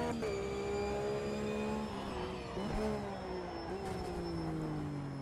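Porsche Carrera Cup 3.8 racing car engine in the Automobilista 2 game, a steady whining drone that dips in pitch around gear changes and braking, then holds, moderately loud and close, with no talk over it.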